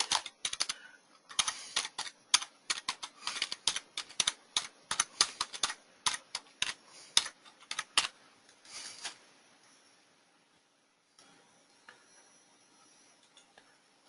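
Rapid clicking keystrokes on a computer keyboard, close up, in quick irregular bursts that stop after several seconds, leaving faint quiet clicks.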